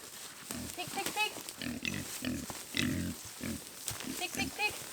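Pigs on an Australian homestead grunt in short bursts, the sounds repeated close by beneath and between loud human calling and chatter.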